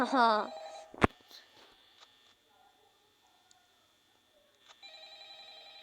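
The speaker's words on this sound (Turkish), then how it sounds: "Laf telefon çalıyor." A telephone rings in the video game Five Nights at Freddy's, faint and steady, starting near the end. It follows a brief voice, a sharp click and a few scattered quiet game noises.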